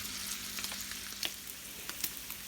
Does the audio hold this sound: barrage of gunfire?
no